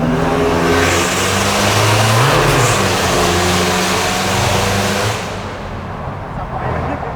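Tuned car engine accelerating hard and bouncing off the rev limiter, loud and close with harmonics rising through the gears and a strong steady roar before easing off; voices talk faintly underneath.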